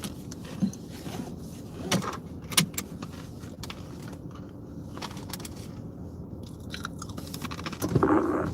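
Crunchy Doritos chips being chewed inside a car on the I-95 highway, irregular close crunches and bites over a constant road rumble, with a few louder snaps.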